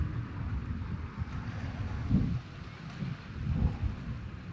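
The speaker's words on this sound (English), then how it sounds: "We're a little bit windy here." Low, buffeting wind rumbles against the microphone outdoors, with a couple of stronger gusts and no voices.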